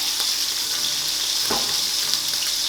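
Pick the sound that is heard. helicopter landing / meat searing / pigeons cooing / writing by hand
meat searing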